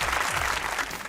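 A studio audience at a comedy talk show applauds, a dense, steady wash of many hands clapping at close range that fills the whole moment without letup.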